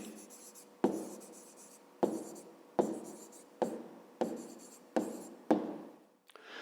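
A pen writes out the answer to a fifth-grade math problem by hand, close and quiet: seven short bursts of scratching strokes separated by brief pauses, alone without talk.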